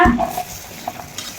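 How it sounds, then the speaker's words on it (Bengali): Brief stirring of meat and garlic frying in a hot frying pan, a soft sizzle with a few scraping clinks of a utensil against metal, close by. "মাংসটা আর রসুনটা সুন্দর করে ভেজে নিব"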